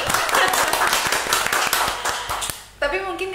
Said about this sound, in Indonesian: Tepuk tangan dong buat podcast kita hari ini.